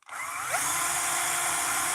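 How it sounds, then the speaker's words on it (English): A small power drill boring a pilot hole: a steady high-pitched whine that starts abruptly and holds constant, close and loud, with no talking. "just drilled a pilot hole with a smaller drill"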